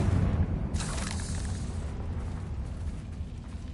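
A Confringo explosion spell goes off in the Hogwarts Legacy video game: a broad, loud rumbling blast with a brief bright crackle near one second, then a steady fading roar with no voices.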